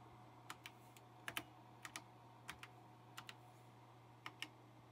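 Keys on an Apple II keyboard click one by one in an irregular typing rhythm, faint and alone over a low steady hum.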